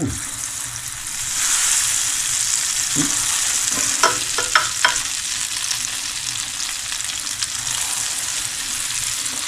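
Beer-battered trout chunks dropped one by one into hot oil give a continuous close sizzle and hiss, with a short cluster of crisp crackles and pops partway through.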